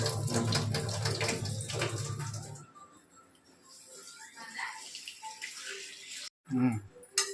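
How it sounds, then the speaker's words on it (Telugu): Ingredients are rinsed in hot water to wash off dust and sand, with running, splashing water loud at first and then dropping to softer trickles and a brief splash near the end, while people talk. "వేడి నీళ్ళలో అలా కడుక్కోవాలా?"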